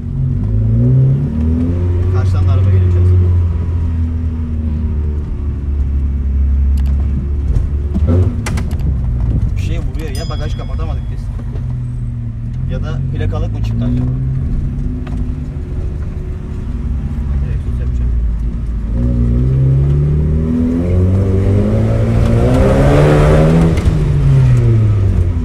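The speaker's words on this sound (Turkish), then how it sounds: "Egzoz bir o kadar güzel çıkıyor ki inanamazsın" A car engine revs and accelerates up close, its exhaust droning and rising in pitch, with people talking over it throughout.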